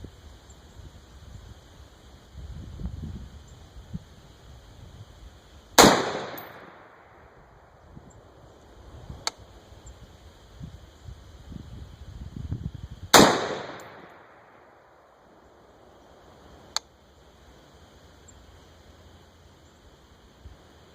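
A DPMS LR308 rifle fires two sharp, loud gunshots several seconds apart outdoors, each with a short decaying echo, against faint rustling background noise.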